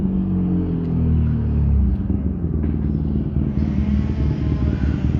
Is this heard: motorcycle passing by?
yes